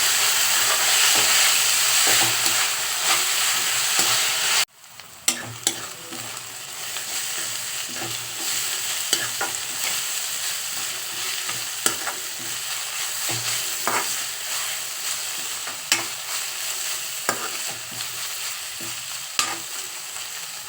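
Coriander leaves stir-fry on a low flame in a pan for mint-coriander chutney: a bright sizzle cuts off abruptly, then gentler frying continues with repeated clinking scrapes of a spatula against the pan, no voices.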